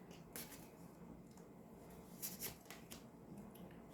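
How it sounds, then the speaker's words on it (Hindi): A deck of tarot cards being shuffled makes soft, close riffling and flicking sounds, with several sharper card snaps, heard alone at a quiet level. "कार्ड शफल हो रहे हैं"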